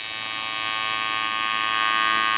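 TIG welding torch running another sealing pass on an old alloy OM606 housing, a steady high-pitched electrical buzz that holds loud and unbroken for the whole short stretch.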